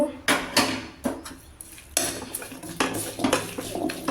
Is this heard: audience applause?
no